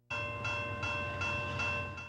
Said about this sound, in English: our radar guns clocked another Via train crossing King Road at 108 kilometers per hour